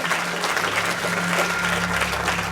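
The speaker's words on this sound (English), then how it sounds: "give her a nice round of applause" An audience bursts into steady, dense applause at a Wells Entertainment showcase, many hands clapping continuously at even loudness throughout with a low hum underneath and no distinct voices.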